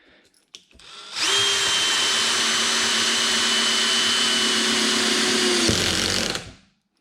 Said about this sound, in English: We'll grab a 3-inch screw here.